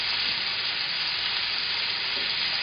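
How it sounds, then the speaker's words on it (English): Moose meat seasoned with iced tea, sugar and pepper sears and caramelizes in a hot pan, giving a loud, continuous, close sizzle with steady hissing throughout. "And our meat here, as it cooks up, you see it's going caramelized quite quickly."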